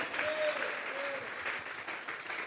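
A church congregation breaks into applause, a dense, steady wash of many hands clapping close and loud throughout, with a faint voice rising briefly beneath it.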